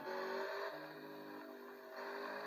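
Race cars driving in a video game, a steady whining engine drone with layered tonal harmonics, continuous and moderately loud, with no talk.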